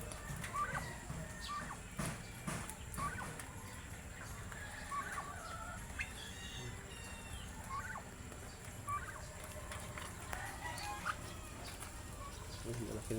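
Turkeys gobble repeatedly in short bursts over a steady background of farmyard noise, with other birds faintly audible and some talk nearby.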